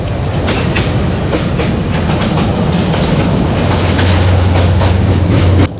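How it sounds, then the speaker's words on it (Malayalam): Reunification Express passenger train in Vietnam rolling through a tunnel, a loud enclosed roar of wheels and carriages with steady clickety-clack throughout, no voices. "ഒരു ടണല് ക്രോസ് ചെയ്ത് വരുന്നു അടുത്ത ടണല് വരുന്നുണ്ടെന്ന് തോന്നുന്നു"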